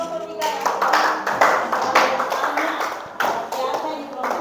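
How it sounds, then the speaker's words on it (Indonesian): Students in a classroom applaud group 3, a dense, steady patter of many hands clapping throughout, with voices mixed in among the claps. "Tepuk tangan dulu buat kelompok 3 ya"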